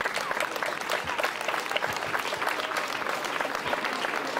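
Audience in a town square at a song festival in Mezzojuso breaking into applause for an association, a dense, even patter of many hands clapping continuously at moderate volume.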